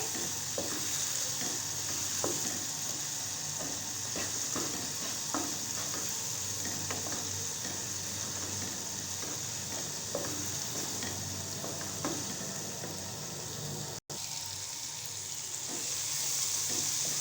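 Spices and tomatoes fry in a pan for chana pulao, a steady close sizzle with frequent scraping stirs and light taps of the spoon throughout.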